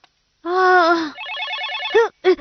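A cartoon telephone rings loudly and alone in a bright, warbling electronic tone that shifts into a rapid pulsing trill, then cuts off with a couple of short bursts.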